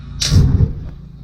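A gas burner lighting inside a powder coating cabinet, a single sharp whoosh of ignition followed by a short low rumbling roar that quickly fades, close and loud.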